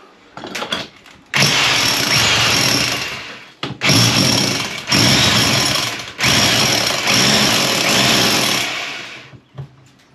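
A loud, close power drill runs in long sustained bursts, drilling into floorboards, whining and grinding with short pauses in between.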